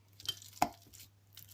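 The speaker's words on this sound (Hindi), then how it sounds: "अब आलूओं को मैश कर लेते हैं।" Boiled potatoes mashed by hand for aloo paratha filling, heard as a few soft, irregular squishing presses and dull knocks against a bowl, one sharper thump standing out, close and fairly quiet with no talking.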